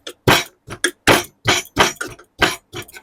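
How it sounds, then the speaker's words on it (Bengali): A stone pestle pounds garlic, chilli and salt, giving about nine loud, sharp crushing strikes in an uneven rhythm, close up with no talking. "এই নোড়াটার সাহায্যে আমি থেতো করে নিচ্ছি।"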